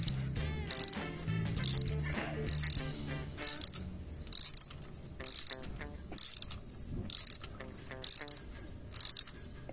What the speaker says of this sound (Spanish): Usamos nuestro dado de 12 milímetros y apretamos al llegue y un poquito más